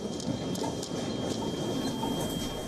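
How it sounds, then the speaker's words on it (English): Trains rattle and shake during the magnitude 7.6 Noto earthquake in Japan, a continuous loud rumbling clatter with faint metallic squeals, steady throughout with no talk. "Trains shook violently."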